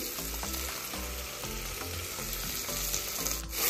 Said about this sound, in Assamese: ধুনীয়াকৈ এইখিনি লৰাই 2-3 মিনিটমান ভাজি লওঁ